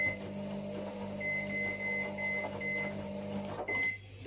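A microwave oven warms a small piece of food and pizza, its steady mechanical hum running continuously at moderate level, ending with a short beep near the close.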